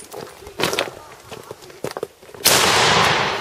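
A loud, close blast from a .50 caliber black powder bolt-action rifle fired outdoors, arriving abruptly after shuffling and handling noises and followed by a long, hissing, smoky rumble that decays slowly.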